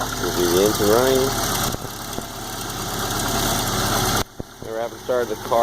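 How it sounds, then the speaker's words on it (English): A Mk2 VW Jetta engine runs steadily after a cold start, having sat unused for three days, with a continuous mid-pitched idle hum and vibration throughout while a person talks over it. "Here's the engine running."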